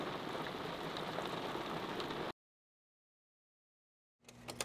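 Rain falls at a cliff edge in Gran Canaria, Spain, a steady soft patter and hiss for about two seconds before cutting to silence, then a brief burst of other sound.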